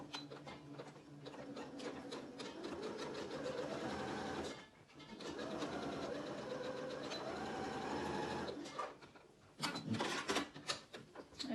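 A sewing machine stitches a half-inch seam on an Ankara fabric face mask, running in a steady, close mechanical whir that stops briefly midway, resumes, then ends in a few uneven bursts, with no talking.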